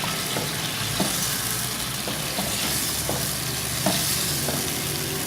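Tomato masala for a bitter gourd mutton curry sizzles and fries in a pan, a steady loud hiss broken by occasional soft scrapes of stirring.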